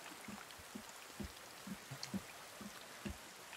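Rain falling in the survival video game The Forest: a soft, steady wash of rainfall with distinct drips and drops landing at irregular intervals over a faint background hiss. Quiet overall, with no voices.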